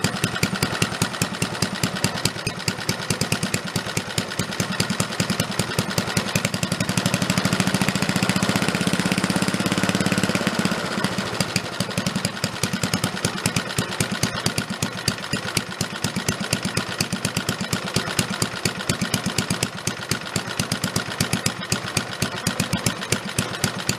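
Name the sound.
antique military engine idling at lowest throttle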